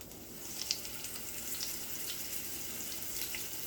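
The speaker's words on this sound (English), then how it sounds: "I want to sear the fat cap on it" Steady frying hiss as the fat cap of a steak sears in a pan for steak au poivre, a continuous bright sizzle with faint crackles and no speech.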